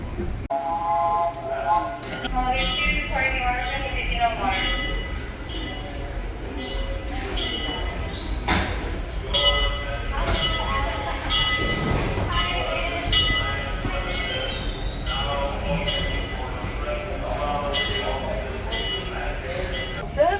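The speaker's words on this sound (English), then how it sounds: "As we steam past Hungry Bear Restaurant." A Disneyland Railroad steam train rumbles steadily along the rails past Hungry Bear Restaurant with rhythmic clanks and clinks, while people talk throughout and a bell rings now and then.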